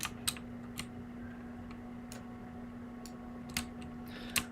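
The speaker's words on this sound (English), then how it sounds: "I do apologize for the keyboard noises if that annoys any of you." Loud mechanical keyboard keys clack in sparse, irregular bursts of sharp clicks close to the microphone, set against a quiet room with a faint steady hum and no talk.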